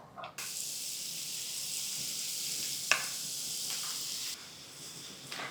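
Vada batter crumbs fry in hot oil in a steady, close sizzling hiss with a single sharp pop midway, easing slightly toward the end.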